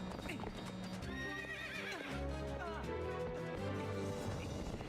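A horse pulling a cart in the video game Zelda: Twilight Princess whinnies with a rising, wavering call over clip-clopping hooves and game music. It is moderately loud and close, with voices in the background.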